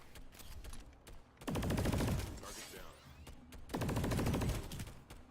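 Two long bursts of rapid automatic carbine fire from a video game, each lasting about a second, loud and close, with a rattling mechanical rhythm between them.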